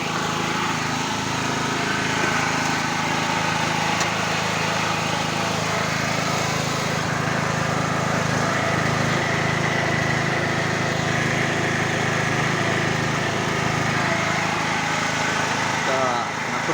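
A Stanley SG 3100 portable generator running under a 2 kW convector heater load, a loud steady engine drone throughout, close by.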